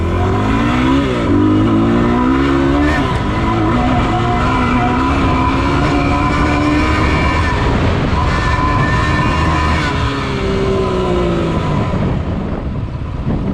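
Yamaha WR250R dirt bike engine revving and pulling hard on a street ride, a loud, continuous rising and falling drone close to the microphone with no talking.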